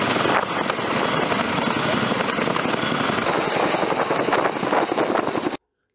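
A CH-47 military helicopter roars overhead with a loud, steady rotor and engine drone lasting several seconds, ending in an abrupt cut to silence.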